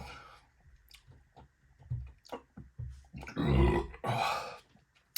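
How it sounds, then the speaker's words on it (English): Burps after drinking Feldschlößchen and Champigneulles beers, several close, deep belches and throaty grunts at irregular intervals, the loudest coming near the end, with no talking. "Making me burp like a mofo, I'll tell you that."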